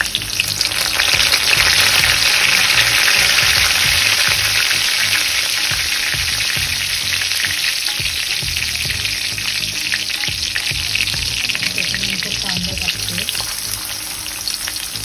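Garlic, curry leaves and onion frying in a hot pan: a loud, continuous close sizzle with crackling spits and faint stirring throughout, no voices.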